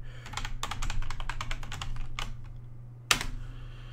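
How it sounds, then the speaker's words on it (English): Someone types on a computer keyboard, a quick run of key clicks with brief pauses, then one sharper, louder keystroke near the end, all close and clear over a steady low hum. "Gosh, I can't type today."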